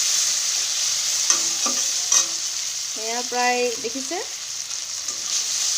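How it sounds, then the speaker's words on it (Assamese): Chopped tomato frying with spices in a wok (kerahi), giving a continuous loud hiss that runs throughout, while someone speaks briefly partway through. "কাটি থোৱা টমেট'টো মই ভালদৰে ভাজি ল'ম, যিহেতু মছলাখিনি আছে।"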